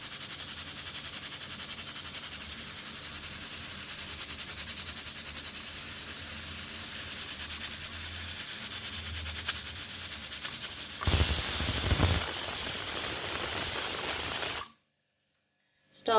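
A pressure cooker cooking bottle gourd curry on a stove hisses steadily as steam escapes, then gives a louder, harsher burst of whistling release near the end before cutting off abruptly.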